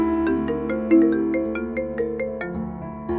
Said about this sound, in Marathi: सुजितचा फोन